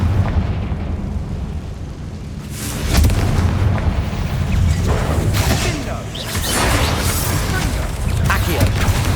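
Confringo spell explosions in the Hogwarts Legacy video game, loud booming blasts and crackling bursts layered over dense continuous game noise, with a voice casting spells amid the chaos.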